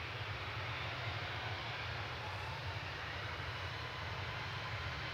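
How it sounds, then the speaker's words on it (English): A British Airways Airbus A320-200 jet at Manchester Airport gives a steady, even engine roar that holds for the whole stretch at moderate distance, with no voices over it. "we've got the British Airways Airbus A320-200 going to London Heathrow"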